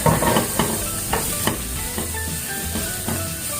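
White parts of spring onion fry lightly in a pan for chicken vegetable chowmein, giving a steady close sizzle with several scraping stirs and clatters of a utensil, no voices.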